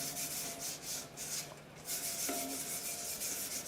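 Sandpaper rubs back and forth across a tin can in rhythmic strokes, a soft close scratching with a brief pause partway through and no voices.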